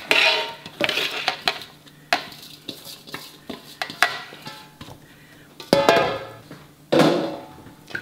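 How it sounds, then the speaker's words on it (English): Shredded cabbage pounded in a bowl for naturally fermented sauerkraut, giving irregular thuds and wet crunching strikes, some clustered and some spaced apart, close up and fairly loud, with no talking. "Cabbage can really take a lot of abuse. You'd be surprised how much you can beat on this stuff."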